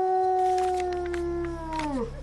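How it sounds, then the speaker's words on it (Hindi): A dog howls at night in a quiet home, one long drawn-out mournful tone that slides downward and trails off at the end, close and clear with no talk over it. "ये कुत्ता फिर रो रहा है"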